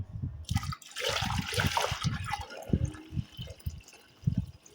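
Warm water is poured and stirred in a container while making a noni fruit drink, producing splashing and gurgling with rhythmic sloshes as it is mixed, close and moderately quiet.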